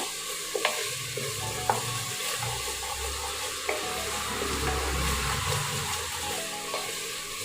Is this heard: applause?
no